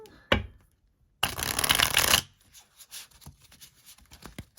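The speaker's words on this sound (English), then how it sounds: "I think it shuffles nicely." A quick riffle of tarot cards, then a dense burst of shuffling lasting about a second, followed by softer card handling and taps.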